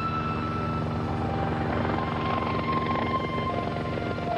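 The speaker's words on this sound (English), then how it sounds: "a lone helicopter flew over in tribute" A lone helicopter flies over at the end of a memorial ceremony, its rotor thumping steadily with a loud, droning engine whine, holding close and constant throughout, with no voices.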